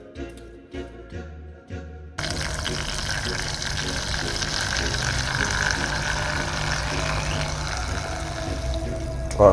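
Water pours steadily into an aquarium filter being filled by hand for a home tank built to mimic an Egyptian marsh, a continuous close gushing that begins after a few brief knocks and runs on without pause.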